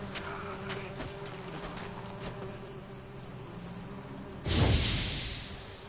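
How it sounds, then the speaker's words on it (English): Angry bees in The Witcher 3 video game, a steady buzzing swarm drone with a few sharp clicks, then a louder whooshing swell near the end. "The bees are angry!"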